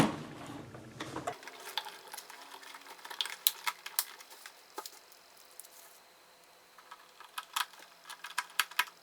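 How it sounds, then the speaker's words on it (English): A tiny screw being driven with a number 1 Phillips bit during reassembly of a Dyson Ball vacuum: faint, close ratcheting clicks and small mechanical ticks in irregular bursts. "we'll go back to our number 1 Phillips bit, and we'll put that teeny tiny screw back up in here for the hose"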